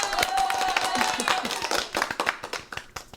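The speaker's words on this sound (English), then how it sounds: "round of applause for Christy" A round of applause for a Patreon supporter named Christy, with sharp irregular hand claps from a small group, fairly close, mixed with voices and cheering throughout.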